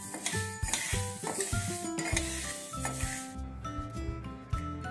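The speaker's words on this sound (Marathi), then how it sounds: "आता आपण मटकी भाजून घेऊया. मटकी पण चांगली खमंग भाजून घ्यायची आपल्याला." Moth beans (matki) being dry-roasted in a pan, with repeated close scraping and rattling of a utensil stirring the beans, uneven clinks and rustles and a light sizzle underneath.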